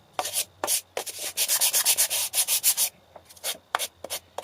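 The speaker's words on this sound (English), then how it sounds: "All the burrs, we're gonna clean that with just sandpaper." Repeated rasping strokes of 120–150 grit sandpaper on a block smoothing burrs from reclaimed wood, a steady back-and-forth rhythm with short pauses, close and fairly loud.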